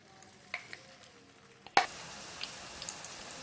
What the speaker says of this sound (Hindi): अब मैं इसको फ्राई करूंगा चिकन को।